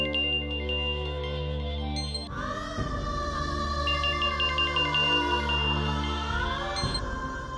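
A phone ringtone for an incoming call plays as a loud, steady electronic melody, shifting to a different tone partway through and ringing continuously throughout, with no talking over it.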